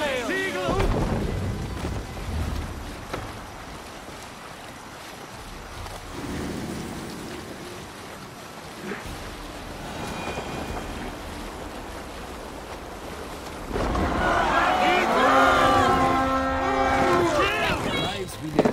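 A Viking longship cuts through the open sea in Assassin's Creed Valhalla, with waves washing and surging against the hull, wind rushing, and voices speaking over the water noise.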